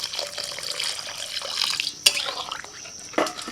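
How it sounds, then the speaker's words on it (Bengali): Water is poured in small amounts into a ridge gourd and mung dal curry cooking in a pan, making a close splashing trickle with a couple of sharper splashes and clinks near the end. "এবার অল্প করে একটু জল দিয়ে দিচ্ছি, আর একটু জল দিচ্ছি"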